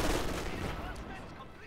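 Heavy gunfire from a tank in a combat video game, a dense burst of loud, booming shots at the start that rolls on and slowly fades across the clip.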